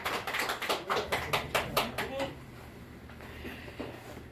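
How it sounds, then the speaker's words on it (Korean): Scattered hand claps from an audience at a Korean church testimony gathering, a dozen or so distinct slaps for about two seconds before fading into quiet room noise. "박수 한번 쳐주세요."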